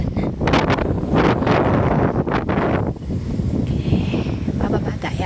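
Strong ocean waves surge onto a beach at Catanduanes island, loud and close, under heavy wind buffeting the microphone. A voice is faintly present.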